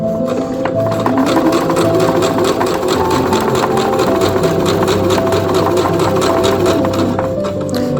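A sewing machine runs a straight seam at a steady pace, its needle clattering in a fast, even rhythm over a constant motor hum. It is close and loud and never pauses.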